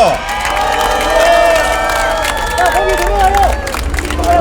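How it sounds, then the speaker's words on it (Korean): A crowd at a political campaign rally in Seoul cheers loudly and applauds, with shouts layered over the clapping. A voice on a PA system rings through the noise. "큰 환호의 박수 한번 보내주시기 바랍니다."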